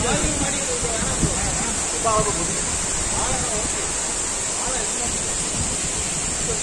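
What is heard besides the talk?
waterfall pouring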